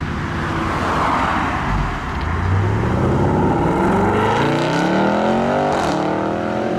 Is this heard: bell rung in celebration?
no